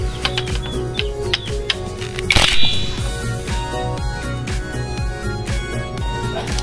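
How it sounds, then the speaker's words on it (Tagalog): A 17mm socket wrench ratchets on the oil strainer of an ADV 160 scooter, giving a close series of regular mechanical clicks with one louder clunk midway, and no voices. "gagamitan po natin siya ng 17mm na socket wrench"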